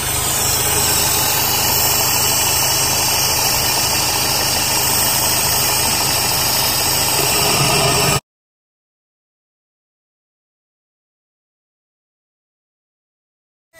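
A 2009 Mini Cooper S (R56) engine idles loudly and steadily during a Seafoam treatment, with a low rumbling vibration, then the sound cuts off abruptly to silence.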